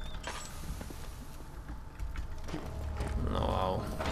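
A wooden door creaks open in the horror game Amnesia, a slow, drawn-out groaning creak over low ambient rumble that swells louder toward the end.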